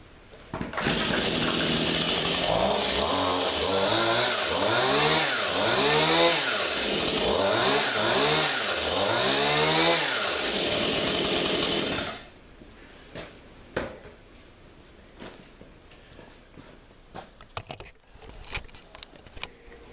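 A Stihl MS 171 chainsaw, used as a small pruning saw, runs loud and close, revving up and down in a series of surges for about twelve seconds before cutting off abruptly into near silence with faint handling noises.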